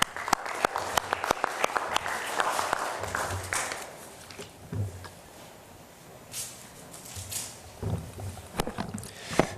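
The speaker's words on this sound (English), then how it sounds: "Please greet him with a big round of applause." An audience claps at the draw ceremony for the 2013 Incheon Asian Indoor Games. Dense applause fills a large hall at first, then thins and fades into quieter room noise with a few scattered claps.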